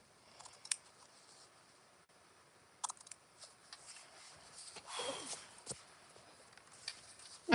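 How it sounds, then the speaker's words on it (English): Scissors trimming small mesh fabric pieces while sewing a custom Tula Pink A Place for Everything 2.0 bag: quiet, scattered snips and crisp cuts close by, with a brief rustling burst midway, no talking. "Apparently I'm flinging little mesh pieces everywhere and trimming stuff off"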